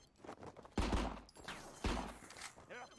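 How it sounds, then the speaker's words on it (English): Gunfire in the co-op video game RICO, two sharp bursts of shots about a second apart, each followed by ringing decay under a busy game mix. "I hear shooting. Is that you shooting?"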